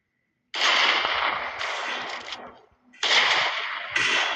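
Rapid bursts of gunfire in a Minecraft zombie game, two long dense volleys separated by a short pause, loud and close, with players talking faintly around them.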